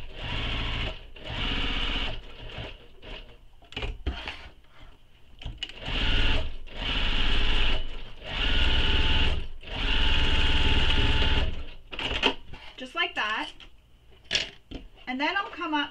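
A sewing machine stitches a crossbody bag in several steady runs of whirring, each a few seconds long with short pauses between, and someone talks during the gaps.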